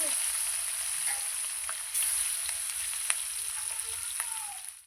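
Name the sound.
katla fish frying in hot mustard oil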